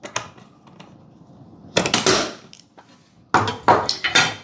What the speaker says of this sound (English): So with very minimal force, tighten the screws.